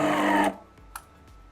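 A De'Longhi Magnifica Evo espresso machine's grinder whirs loudly for about half a second, then cuts off abruptly, leaving a few faint clicks in the quiet.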